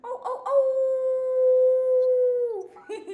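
A person imitates a wolf howl with a single long, steady, tonal cry that holds for about two seconds before dropping off, set between brief bits of talk.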